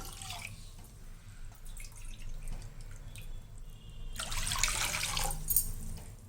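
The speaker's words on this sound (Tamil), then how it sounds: "இதே கப்பில் 2 கப்பு நம்ம தண்ணி விட்டுக்கலாம்." Water is poured into a pan for making rusk halwa in a home kitchen, a splashing, trickling stream that comes and goes, then swells into a louder, fuller pour near the end.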